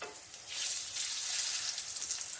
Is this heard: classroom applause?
no